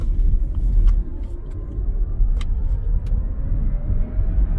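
Synthetic engine sound from a Kia EV9 GT-Line electric SUV while accelerating, a steady low droning rumble that slowly rises in pitch over road and tire noise, with no talking.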